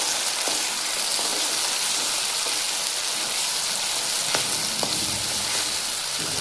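Ground spice paste fries in oil in a pan, giving a dense, steady, close sizzle like light rain, with a few soft clicks from stirring.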